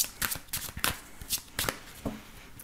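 A deck of tarot cards is shuffled before a reading, with quick papery riffles and slaps coming in several short bursts, close and fairly quiet.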